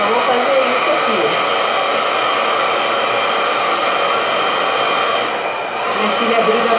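A hair dryer running steadily at a strong setting while drying a woman's hair, a loud continuous whoosh close by with a brief dip near the end.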